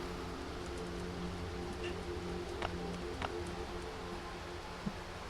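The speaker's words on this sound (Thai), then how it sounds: "ตอนทำคลิปเนี่ยฝนตกหนักมากจริง ๆ ทุกคน" Steady heavy rain falls at night as a constant dense hiss, with a low hum underneath and a few faint taps and clicks.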